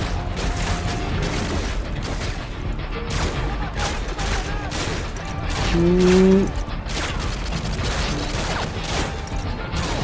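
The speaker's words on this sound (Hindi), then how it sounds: "बाहर निकलते ही फायरिंग।" Gunfire rattles through a Call of Duty Modern Warfare 2 battle in the No Russian mission, with bursts of shots, crashes and booms over dense game noise and a rising mechanical tone midway.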